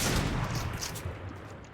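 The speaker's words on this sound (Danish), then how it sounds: "han starter skud" Rapid video game gunfire, a dense burst of shots that is loud at the start and gradually tails off, with no talking.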